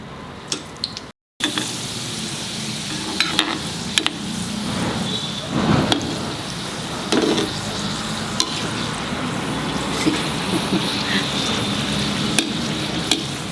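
Neureos sweets frying in hot oil, a steady, dense sizzle and crackle with occasional louder pops and bubbling bursts, close and continuous throughout.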